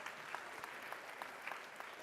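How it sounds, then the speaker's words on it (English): Steady applause fills an awards ceremony hall for photography award honourees, even clapping from a sizeable audience with a few sharper individual claps standing out, quiet and somewhat distant. "Big round of applause for the commended in the Creative Photo Awards"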